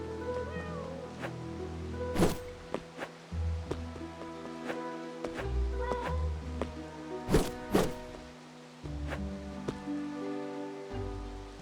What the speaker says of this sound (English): Sounds like a cat.